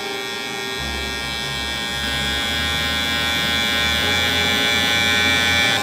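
Electric hair clippers buzz steadily and close up during a skin fade with a 0.5 guard, a continuous loud whine with a low hum that shifts slightly as the lever is adjusted, with no talking.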